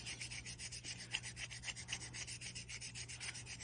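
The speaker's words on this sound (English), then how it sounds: "I'm just going to sand it with the 1500." Faint, steady rubbing of wet sanding on a small polymer clay piece with 1500-grit micro mesh, a soft scratchy back-and-forth under a low background hum.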